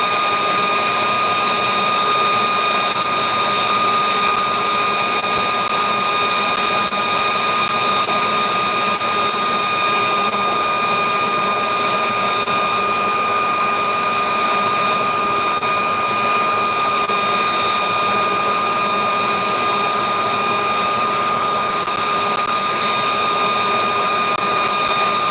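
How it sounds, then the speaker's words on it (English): A blacksmith's propane-style forge running, a loud, constant roaring hiss with a steady tonal whine that holds unbroken throughout, close by. "What is that noise? That is my forge."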